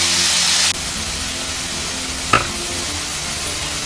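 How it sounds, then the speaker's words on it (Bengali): Long potato pieces frying in hot oil with a pinch of turmeric, a steady sizzle that drops off abruptly after a moment, then a quiet hiss with a single scrape as the pieces are turned. "এবার আলুগুলোকে উল্টে পাল্টে ভেজে নিতে হবে।"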